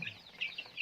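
Young chicks on a farm calling for their mother, faint high peeping chirps repeating in short bursts, distant and quiet.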